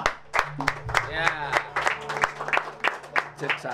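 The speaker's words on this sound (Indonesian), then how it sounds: "Tepuk tangan dulu." An audience claps at a Sundanese stage comedy show, a burst of scattered applause running under a voice and background music.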